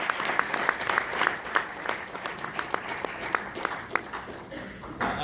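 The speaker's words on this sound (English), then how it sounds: "Give it up for Brian Lucia" A crowd at an evening event claps in sustained applause for a speaker, a dense, steady patter of many hands close by, with a few sharper individual claps and faint voices under it.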